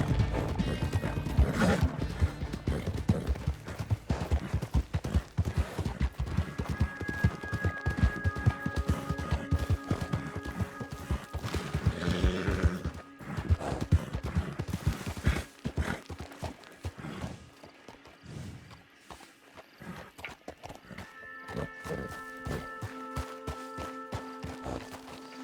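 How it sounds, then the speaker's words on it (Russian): A horse gallops in Red Dead Redemption 2 Online, a fast continuous drumming of hooves with occasional snorts and ambient game sound, no talking over it. "лошадка скачет хорошо."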